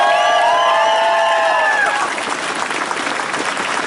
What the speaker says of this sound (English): If I could have a round of applause for all the volunteers that put this together.